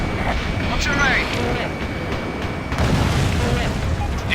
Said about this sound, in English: Anti-air gun destroyed.